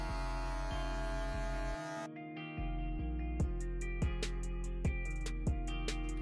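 An electric hair clipper hums with a steady mains-like buzz during a self-haircut in a bathroom, adjusted by its taper lever. The hum drops out briefly, then resumes with a series of regular sharp clicks.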